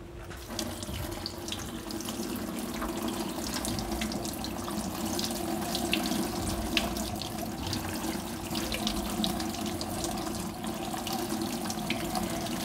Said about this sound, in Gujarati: હવે આને આપણે પાણીમાં ધોઈ નાખશું.